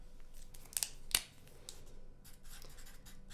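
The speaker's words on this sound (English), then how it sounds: "Let me write that down" A pen scratches a few quick strokes while writing something down on a list, with sharp short scrapes early on and softer marks after, close and faint over a quiet room.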